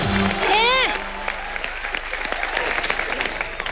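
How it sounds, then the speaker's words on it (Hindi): A burst of applause from a comedy show studio audience, loud and continuous, following a brief voice at the start. "जोरदार तालियां हो जाए भारती और करण के लिए"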